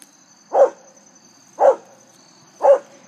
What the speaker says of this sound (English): please forgive my dog for interrupting.